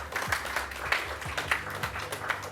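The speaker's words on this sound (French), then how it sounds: "Oui, on peut l'applaudir, oui." An audience at a mentalist show applauds a participant with a light, uneven patter of clapping from a modest crowd, fairly faint.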